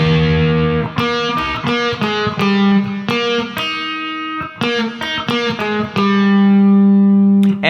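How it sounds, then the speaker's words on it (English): An electric guitar drenched in reverb and delay rings out a series of plucked notes and chords, each attack trailing off in long, shimmering echoes that overlap into a sustained wash. "it's important to have some reverb and delay throughout most of this song"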